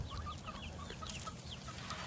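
Hens cluck in a chicken pen, a scatter of soft, quick clucks and calls repeating over a steady low background hum, fairly faint and close.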